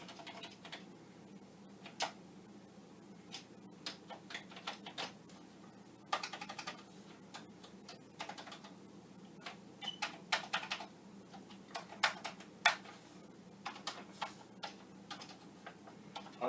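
Keys clack on a dirty Commodore 64 keyboard in uneven bursts of quick presses, close and crisp over a low steady hum, with no talking.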